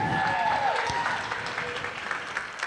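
Audience applause rings out at a catered event after a speech honoring Steve, a steady wash of clapping with some voices mixed in, filling the room briefly.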